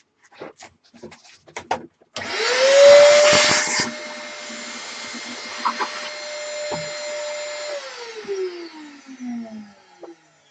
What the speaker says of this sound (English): give it the last hoover